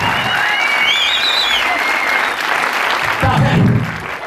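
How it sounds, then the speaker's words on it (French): An audience at a wedding-themed event breaks into loud, dense applause, steady and close throughout, with cheering voices and whistles rising above the clapping. "Applaudissements."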